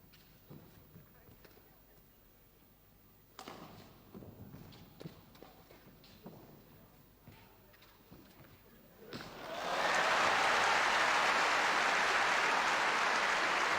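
Crowd at the 1974 All England badminton championships during a Gunalan–Hartono match: quiet hall with sparse shuttle hits and rustles, then a sudden, loud burst of sustained applause that swells and holds to the end.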